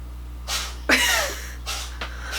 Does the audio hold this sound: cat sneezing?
yes